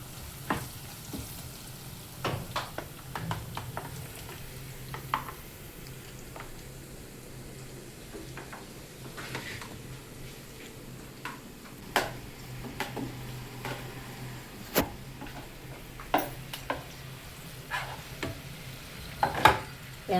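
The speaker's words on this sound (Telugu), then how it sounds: "అదంతా ఇప్పుడు దీంట్లో వేస్తుందండి తాలింపులో." Spiced country chicken for Andhra-style iguru goes into hot tempering oil and is stirred, giving a soft continuous sizzle broken by repeated scraping and clinking of a spoon against the pan, close and fairly quiet.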